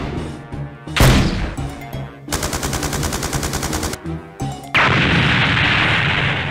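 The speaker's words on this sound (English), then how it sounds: "That thing can shoot rockets?" Toy rocket launcher firing in a plush Plants vs Zombies scene, loud bursts of rapid gunfire-like blasts and whooshes, a sustained rattling barrage in the middle and a steady roaring rush at the end, no talking.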